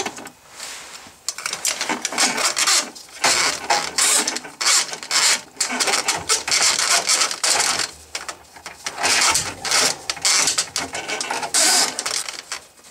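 A drain snake being fed into a clogged drain pipe: sustained metallic rattling and scraping, loud and close, with rapid clicking textures and brief pauses, heard alone.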